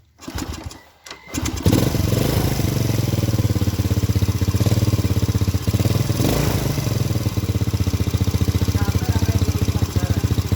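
Motorcycle engine with a black-fouled spark plug starts after a brief cranking sputter, then idles steadily and loudly close by with a fast even putter.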